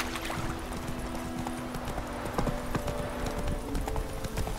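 Hooves of a horse galloping in The Witcher 3, a fast, even drumming of close hoofbeats that carries on throughout with no voices over it.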